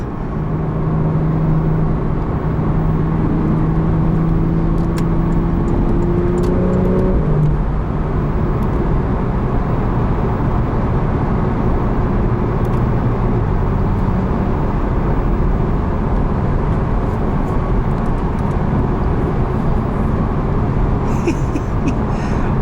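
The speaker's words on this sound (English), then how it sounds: "it keeps making power to redline just like the non-turbos" A 2018 Porsche Carrera 4S with PDK gearbox accelerating hard toward redline, a loud steady engine drone with rising tones that shift down at gear changes, heard from inside the cabin.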